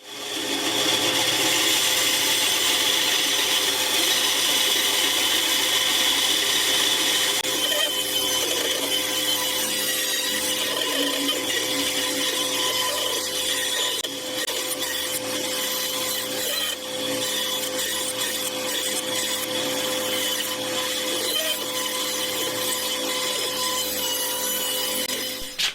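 Continuous loud rasping of a saw cutting a tail stop shape out of wood for a classical guitar, steady strokes running for a long stretch without talk.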